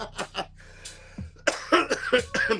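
A person coughs after smoking cannabis, giving a couple of sharp hacks, a raspy breathy throat noise, then a loud run of harsh, rapid coughs close to the microphone.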